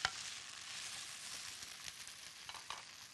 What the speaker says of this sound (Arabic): اهو بنقلب كده